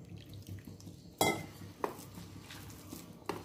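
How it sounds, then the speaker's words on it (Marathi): Water added to alu wadi batter in a metal bowl, with a few sharp clinks and splashes of spoon against the pot over quiet sink-like water sounds. "आपण अजून थोडंसं पाणी ॲड करूया."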